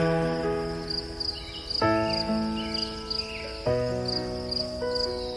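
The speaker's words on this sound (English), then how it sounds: "You can hear that sound, crickets in the background." Crickets chirp steadily in rapid, pulsing trills outside a Chevy parked with the window down at night, continuous under sustained music tones.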